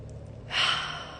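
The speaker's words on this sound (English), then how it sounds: "Deep breath in." A single deep breath drawn in through the nose, close and soft, rising into a steady airy inhale that holds to the end.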